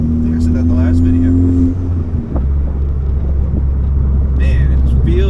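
Ford Focus MK3 fitted with a SideWinder turbo kit on its first drive, a steady engine drone with a held tone that drops away as the car shifts, then a low running rumble, heard from inside the car.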